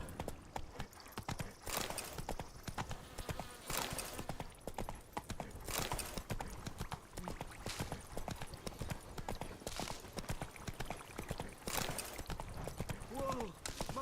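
Horse hooves gallop in The Witcher 3 video game, a steady rapid clip-clop rhythm running throughout at close range, with brief voice snippets and a horse whinny near the end.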